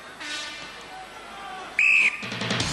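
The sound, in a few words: referee's whistle starting the event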